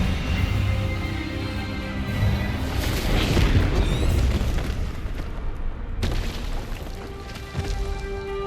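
A spell blast from an Expelliarmus duel erupts as a dense, roaring boom that swells and rumbles for several seconds, then a fresh sharp burst cuts in near the end and carries on loudly.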